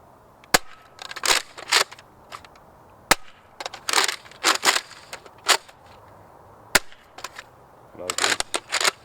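Outdoors in a field, a Nerf Rival Apollo XV-700 blaster fires foam balls in a series of sharp snapping shots at close range, scattered across the span with rustling and handling noise between them.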